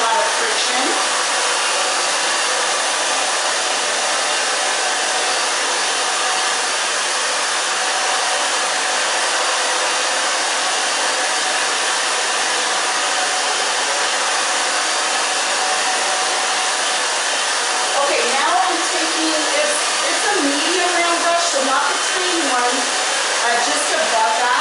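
A hair dryer blows curly hair with a steady, close, constant whoosh that runs unbroken throughout, with faint shifts in tone near the end as the airflow moves.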